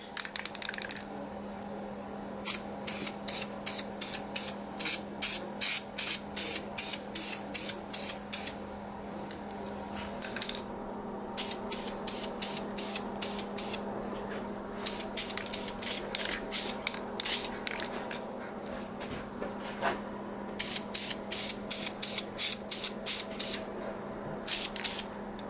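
Spray gun painting a Datsun 280Z engine bay, firing in repeated bursts of hissing spray, each a few seconds long with short pauses between, over a steady low hum.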